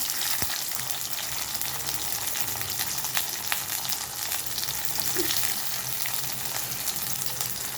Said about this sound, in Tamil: சின்ன வெங்காயத்தையும் தக்காளியும் நல்லா வணக்கிக்கலாம்